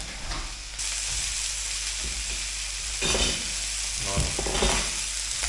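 Garlic fries in a small amount of fat, a loud, continuous hiss and sizzle close by, with occasional stirring scrapes and clatter layered on top.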